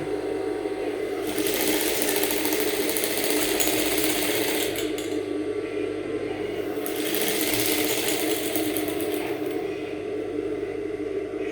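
A sewing machine stitches a Victorian corset blouse with a back loop, its steady whirring drone running alone in two long bursts with a short pause between.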